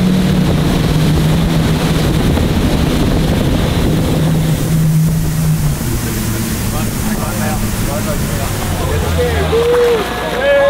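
A Brabus Shadow 900 motorboat with 900 horsepower runs steadily on open water off Mallorca, its engine roar blended with rushing wind and spray throughout, loud and continuous.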